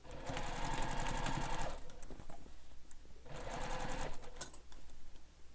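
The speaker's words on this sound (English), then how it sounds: "And then we'll sew this with the seam allowance given in the pattern." A sewing machine stitches a seam on a handheld bag in two steady bursts of close, loud mechanical whirring, with a short pause of quieter handling between them.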